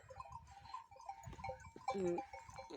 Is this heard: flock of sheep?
yes